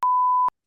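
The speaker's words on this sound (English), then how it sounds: "We'll beep that out." A single steady censor bleep tone, loud and clean, runs for about half a second with abrupt start and stop, followed by silence, covering a spoken word on a hockey podcast.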